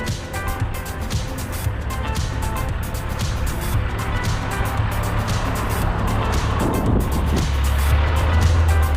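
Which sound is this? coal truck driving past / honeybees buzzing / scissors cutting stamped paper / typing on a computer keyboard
coal truck driving past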